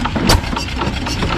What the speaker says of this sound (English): the Easy built tractor. With a hit or miss engine